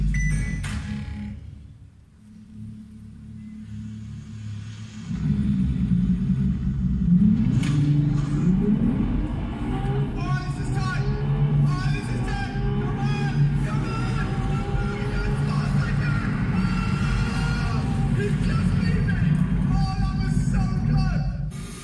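A LaFerrari accelerates hard in a race, a loud rising engine roar that builds after a quieter rumble and continues over crowd noise and speech.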